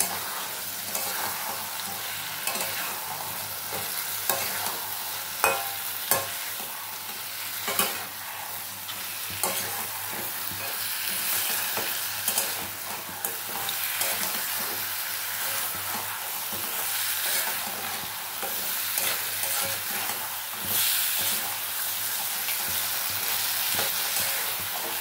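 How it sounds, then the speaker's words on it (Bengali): Raw crabs stir-fried with spices in a pan over raised gas heat give a steady, close sizzle and frying hiss, broken by repeated scraping stir strokes throughout, with no talking. "কষিয়ে নেবো সমস্ত মশলার সাথে আর কি"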